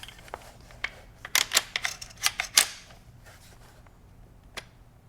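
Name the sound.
Benelli M4 shotgun barrel and parts being assembled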